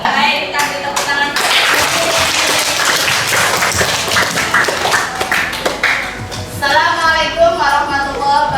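Students in a classroom clap together, dense irregular hand claps filling the room with voices of children chattering and calling over and through the applause, ending in a rise of speech.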